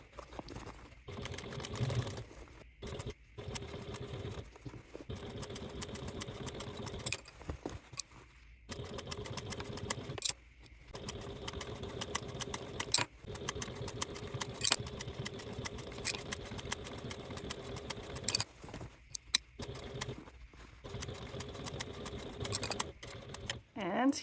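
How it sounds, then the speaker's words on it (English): A flatbed sewing machine top stitching a fabric project bag from the inside runs in steady whirring bursts separated by short pauses, with a mechanical hum and occasional clicks. "So when I'm at the machine, I will be top stitching from the inside"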